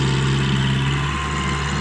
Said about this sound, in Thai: เป็นเครื่องยนต์เทอร์โบด้วยครับ